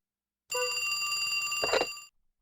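A telephone rings in a video game: a single bright, bell-like ring lasting about a second and a half, with a rattling burst near the end before it cuts off.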